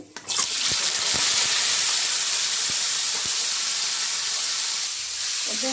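Cauliflower and potato pieces frying in hot oil in a pan, a steady loud sizzling hiss that starts abruptly and holds throughout, with a few faint clicks.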